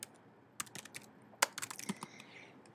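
Fingers tap a computer keyboard in short, quiet, irregular bursts of clicks, close by with no talking.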